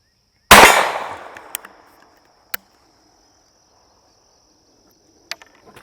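A single sharp gunshot from a 12 gauge shotgun fitted with a .22 LR adapter, fired outdoors, followed by a decaying tail, then faint clicks and a quiet insect-like drone, with no talking.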